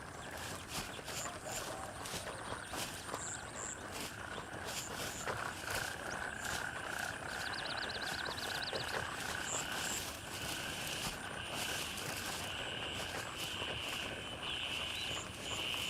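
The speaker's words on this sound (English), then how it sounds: "You're going to need to turn the frog sounds down, but that's realistic." Dense ambient chorus of frogs croaking in the Gray Zone Warfare video game, a constant layered wash of chirps and croaks with insect-like buzzing, steady and fairly loud with no talk.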